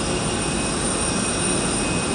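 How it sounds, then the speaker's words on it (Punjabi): A jet airliner's engines roar at an airport in Riyadh before a flight to Jazan, a loud, steady, close rushing drone with no break. "ਸਾਡਾ ਜਹਾਜ਼ ਆ"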